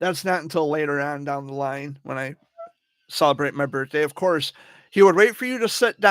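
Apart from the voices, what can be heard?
No everyday noise stands out behind the speech.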